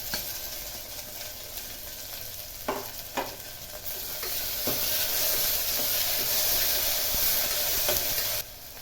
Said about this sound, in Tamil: இப்போ நான் தக்காளியை சேர்த்து வதக்கிப்போம்